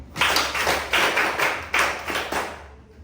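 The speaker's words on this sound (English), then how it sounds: "Clap for him." A classroom of students claps together in a steady, rhythmic pattern of sharp group bursts, loud and close, with no talking over it.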